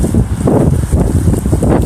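Wind gusting outdoors in East Milton Square as snow falls, a loud, rough low rumble buffeting the microphone continuously with no pauses.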